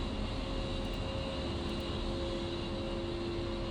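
Twin engines of an A-10C jet idle steadily in Digital Combat Simulator, a constant broadband roar with a fixed tonal whine, unchanging and alone without talk.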